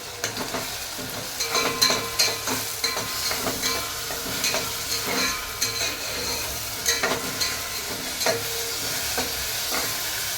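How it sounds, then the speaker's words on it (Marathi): Onion and garlic paste with coriander and ginger frying in a pan for a bangda fish curry, a continuous loud sizzle broken by frequent spatula scrapes and clicks as it is stirred. "आता हे थोडं भाजू देऊ"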